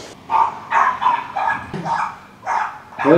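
A dog barks at a cyclist on a bike ride toward Greece, giving a series of sharp, loud barks at a steady rhythm, close by.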